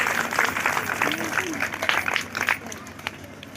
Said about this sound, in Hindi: जोर से तालियां, जोर से।